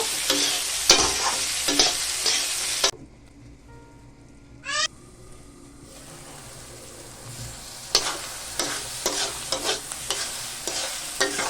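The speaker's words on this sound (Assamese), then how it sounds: "মাজে মাজে এইখিনি লৰাই থাকিব লাগিব" Food sizzles as it fries in a pan in a home kitchen and is stirred now and then with scraping strokes. A short high squeak cuts in halfway through, and the sizzle runs steady in the background.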